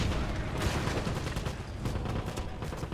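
Dense, continuous gunfire from the 2009 video game Wolfenstein, a loud, unbroken clatter of rapid shots and booms with no gaps across the whole stretch.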